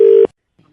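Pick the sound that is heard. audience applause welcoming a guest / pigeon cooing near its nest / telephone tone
telephone tone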